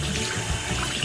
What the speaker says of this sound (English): we're gonna try the hot water